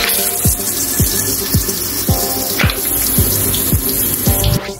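Water gushes steadily from a faucet or shower head in a bathroom, a loud continuous hiss with faint regular clicks beneath it.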